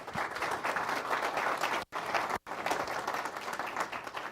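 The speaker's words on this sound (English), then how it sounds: "Let's have a round of applause." Steady applause from an audience at a city council meeting, dense and even throughout with two brief dropouts midway.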